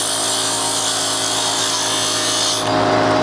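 A wood lathe cuts a tenon on a turned hummingbird birdhouse blank, giving a loud, continuous scraping and whirring as the tool rubs the spinning wood, steady for about three seconds and then easing slightly.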